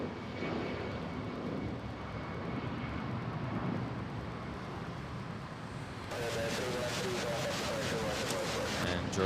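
An Air Asia airliner at Manila Airport gives a steady jet engine roar, moderately distant and fairly faint, swelling slightly louder partway through with added high whine and wind rumble.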